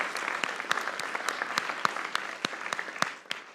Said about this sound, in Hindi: इंडिया के लिए तालियां